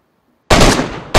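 Automatic gunfire in a DayZ player-versus-player fight at Zeleno: a loud, dense burst of shots lasts about half a second after silence, then a second burst breaks in just before the end.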